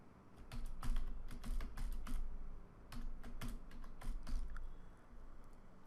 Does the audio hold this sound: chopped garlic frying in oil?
no